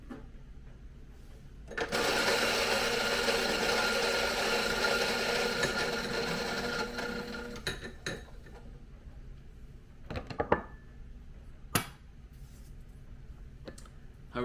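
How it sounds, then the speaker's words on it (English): A coffee grinder churns Ethiopian beans for about six seconds in a loud, close, continuous whir, then stops, followed by a few scattered clicks and taps. "So I'm going to purge my grinder with some of these beans."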